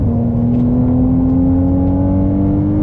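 Ferrari 296GTB engine accelerating on the Sepang circuit: a loud, close, continuous engine drone that climbs slowly and smoothly in pitch with no break.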